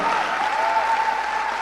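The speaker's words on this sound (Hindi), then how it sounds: "मैं चाहूंगा उनके लिए जबरदस्त ताली" An indoor audience at a gathering in Bihar gives steady, dense applause, loud and continuous throughout with no voices heard over it.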